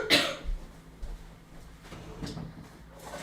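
A sick person gives a sharp, throaty cough followed by a softer second one a couple of seconds later, both quiet and close in an otherwise still indoor room.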